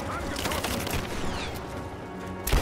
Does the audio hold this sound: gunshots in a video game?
yes